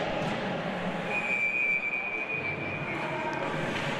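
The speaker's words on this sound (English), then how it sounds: "Linesman blows his whistle" A linesman's whistle at an ice hockey game between Traverse City Central and GR Christian gives a thin, high blast of about a second, heard faintly over the steady roar of the arena crowd.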